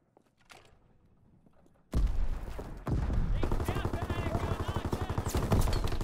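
Rapid, dense gunfire from the World War II shooter game Call of Duty: WWII bursts in suddenly after a quiet opening and keeps up a loud, continuous rattling barrage.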